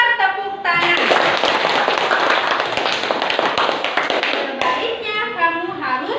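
A classroom of children claps hands together in a burst of rapid, dense clapping lasting several seconds, with young voices speaking just before and after.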